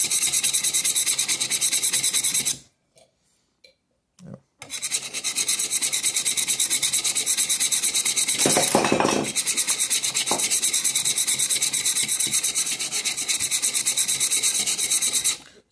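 Steady, continuous rasping of a Chinese bao (jack) plane sole being rubbed back and forth on coarse sandpaper, loud and close, with a short pause near the start before the scraping resumes without talk.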